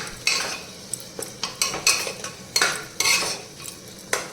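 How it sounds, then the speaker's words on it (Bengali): A spoon stirs and scrapes rajma masala in a pan over a low flame, giving repeated close metallic clinks and scraping strokes in an irregular rhythm, with no talking. "এবার আমি এটাকে একসাথে যতক্ষণ না তেল ছাড়ছে ততক্ষণ আমি এটাকে কষাতে রাখবো"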